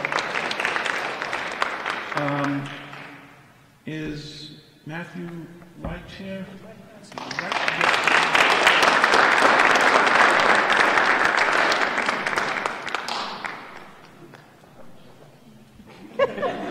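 Audience applause at the 32nd Quill Awards ceremony, a broad sustained burst of clapping that swells for several seconds and then fades, with a presenter's voice speaking before and after it.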